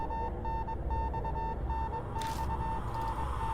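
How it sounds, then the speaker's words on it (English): Beeping from the Death Mark video game: a steady, mid-pitched electronic beep repeating in an even pulsed pattern over a low ambient rumble, with a brief hiss partway through. "The beeping becomes gradually louder, almost as if it's trying to tell me something."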